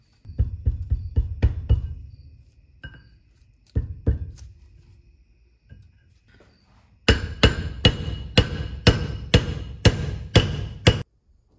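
Hammer blows drive a socket onto a pilot bearing to seat it in a new flywheel during a 1990 Honda CRX Si clutch job: a few scattered loud metallic strikes, then a steady run of eight sharp, evenly spaced hits close by.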